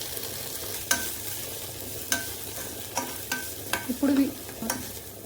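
Chopped coriander and mint fried in a pan with a mixture, a steady low sizzle broken by a series of sharp spoon scrapes and clanks at irregular intervals, close and fairly quiet, no voices.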